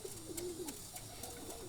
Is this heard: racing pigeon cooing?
yes